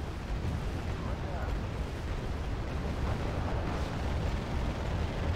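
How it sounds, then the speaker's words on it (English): Rocket artillery explosions in the war strategy game Wargame: Red Dragon, a dense, continuous rumble of overlapping blasts and booms that holds steady at high loudness for the whole stretch. "Rocket artillery, that sucks."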